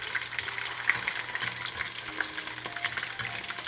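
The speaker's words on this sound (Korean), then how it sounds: "그리고 이제 마지막으로 튀깁니다" Vegetable fritters of potato, onion, carrot and green onion frying in oil, a steady close crackling sizzle with scattered sharper pops throughout, no voices.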